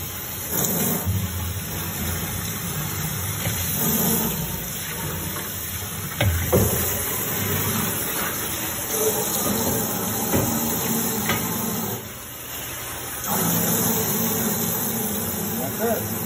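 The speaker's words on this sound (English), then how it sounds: "Turn on the hot water." Hot water runs steadily from a tap while a cotton candy machine part is rinsed, a continuous hiss with brief pauses and clinks, under someone talking.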